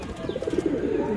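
High-flying Sarang puri pigeons coo in a short, soft run of low, rounded notes, close by and steady, with faint background noise and no talking.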